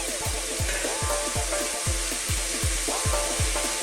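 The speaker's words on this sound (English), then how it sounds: "We'll give this a little stir around here" Goat curry sizzles steadily in a pot, with a spoon stirring through it in repeated scraping strokes roughly every half second, close and fairly loud, with no voices.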